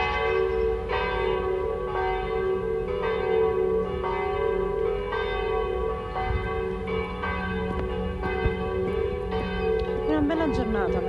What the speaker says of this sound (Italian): queste campane riempiono di gioia